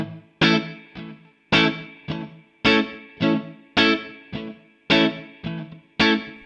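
Short, choppy electric guitar chords in a classic Motown rhythm, the stabs landing hard on beats 2 and 4 with lighter strums between, played alone and close in a steady repeating pattern.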